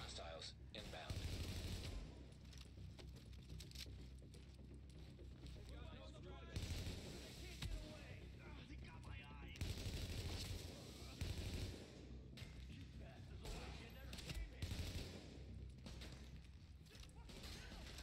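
Gunfire in the video game The Division, set in Brooklyn, plays as dense bursts of automatic shots under a constant game soundscape. A player talks over much of it.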